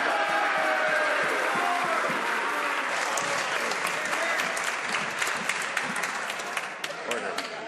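Applause in the Canadian House of Commons makes a loud, sustained roar of many members clapping and cheering together, with desk-thumping bursts later on. It thins slightly toward the end, and scattered voices mix into the noise.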